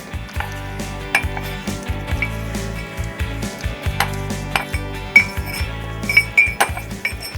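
A spoon clinks and scrapes against a bowl while a homemade natural beauty remedy is mixed, with light, irregular taps over a steady, soft musical backing.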